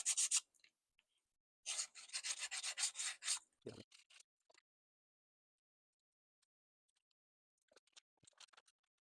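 Leather edges of a handmade eight-pocket cardholder wallet being burnished by hand, giving a quick close rasp, then a steady run of brisk rubbing strokes, then a pause and a few faint scattered scrapes.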